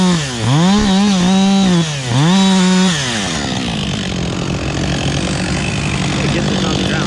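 A chainsaw revs up twice in sharp rising surges, then settles into a steady grinding whine as it cuts through a felled tree, loud and close.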